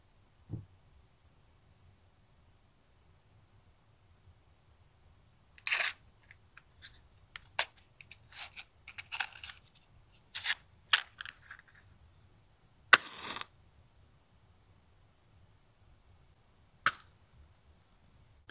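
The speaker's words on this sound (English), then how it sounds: "it's the initial hit of the match like scratching over the surface, but then also just the burning" Matches struck one after another, each a sharp scratchy burst of friction across the striking surface, spread out with pauses between strikes over a faint steady background; the soft flare of burning is barely apparent.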